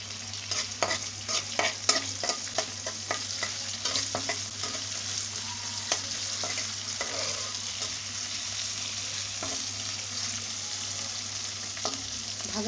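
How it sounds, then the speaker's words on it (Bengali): Boiled potatoes frying in hot oil in a pan for aloo dum, with a constant sizzle and quick rhythmic scrapes of stirring that thin out partway through. "এটাকে এখন ভাজা ভাজা করে নেব"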